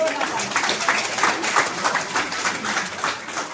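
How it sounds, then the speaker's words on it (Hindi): Crowd applause at a village fair beside a temple, a loose wash of clapping running the full few seconds with voices mixed in. "आप सबके लिए जबरदस्त ताली होना चाहिए"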